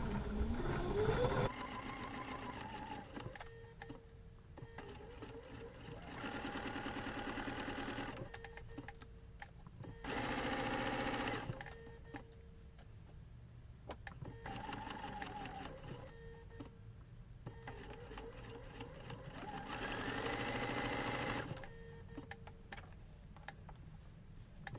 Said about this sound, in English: I'm going to sew slowly so I don't overshoot